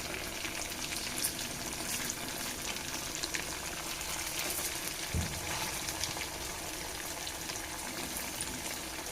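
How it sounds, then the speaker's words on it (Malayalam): Chicken pieces frying in a pan give a steady, close sizzle throughout, with a soft bump midway and no talk. "രണ്ട് മൂന്ന് വട്ടം തിരിച്ചും മറിച്ചൊക്കെ ഇട്ട് നമുക്ക് ഫ്രൈ ചെയ്തെടുക്കാം"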